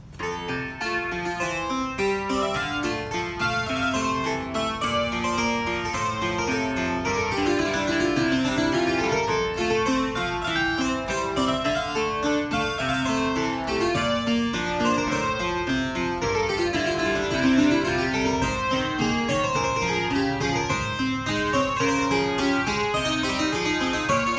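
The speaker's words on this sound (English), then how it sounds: "We also have a harpsichord, which sounds like this" A keyboard's harpsichord voice plays a steady stream of bright, plucked notes in busy runs and chords, continuous and close for over twenty seconds, with no voices.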